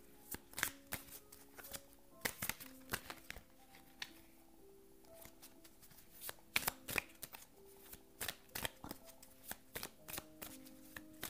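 Oracle cards shuffled by hand for a card reading, a long series of crisp riffling bursts and soft pattering slaps repeating at close range, with brief pauses between shuffles.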